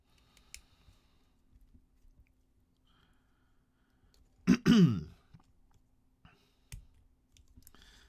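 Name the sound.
throat clearing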